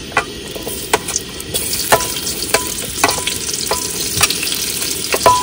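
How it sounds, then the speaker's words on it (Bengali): Onion hits hot oil in a kadai while being cooked for a soybean curry, giving a steady, loud sizzle punctuated by sharp, regular clacks of a spatula stirring against the pan. "না কড়াইতে তেল গরম হয়ে গেছে, এবার দিয়ে দেবো পেঁয়াজ।"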